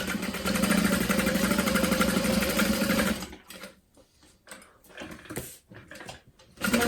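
A sewing machine stitches a seam down the center of a bowler bag, running in a steady, dense whir for about three seconds before stopping, followed by quiet handling noises.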